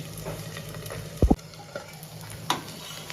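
Rava poha uttapam roasting in oil on a pan over low gas, with a soft steady sizzle and a brief louder clatter of a spatula partway through.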